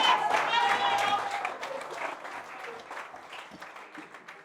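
A church congregation bursts into applause during a sermon, a dense clapping burst that starts loud and gradually thins and fades over a few seconds.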